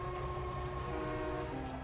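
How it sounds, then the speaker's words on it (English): A passing train sounds a sustained horn with steady tonal blasts over a continuous low rumble of rail cars, fairly close and loud. "Okay, now I hear the trains."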